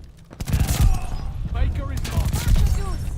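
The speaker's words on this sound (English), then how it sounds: "This LMG really does shred." Rapid light machine gun fire in Call of Duty: Vanguard, a dense close burst of shots with clinks and game effects, someone talking over it.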